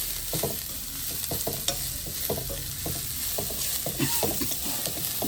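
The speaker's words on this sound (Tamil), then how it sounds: "ஒவ்வொரு மிளகரியாக போட்டு வதக்குவோம்" Chillies stir-fried in a pan for chicken fried rice make a steady sizzle of hot oil all the way through. Scraping and knocking from the spatula stirring the pan comes in irregular bursts, and there is no talking.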